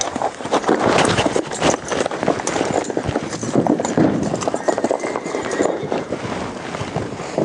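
Hooves clatter and stamp unevenly on hard ground as a horse shifts and shies, with people talking close by throughout.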